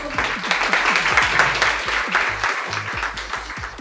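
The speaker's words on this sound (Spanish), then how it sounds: "Con este aplauso despedimos a Renato." Farewell applause for Renato Jofré during his visit to the C.E. María Reina school, a steady, loud round of clapping from a group that carries through the whole moment, with faint voices mixed in.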